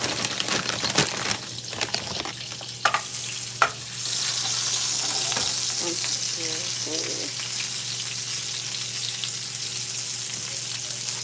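Sausage fries in a pan with a steady, fairly quiet sizzle, broken early on by a few clinks and scrapes of cookware.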